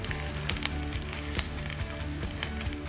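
Veg roll tikki frying in a pan, a steady close sizzle of hot oil with small pops and crackles throughout, no voices.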